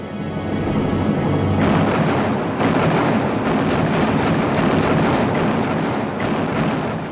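Naval cruiser guns open fire in a night battle against the Scharnhorst, a loud, continuous barrage of booming shots and explosions rolling on without pause, with no talk.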